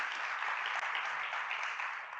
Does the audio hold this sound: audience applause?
yes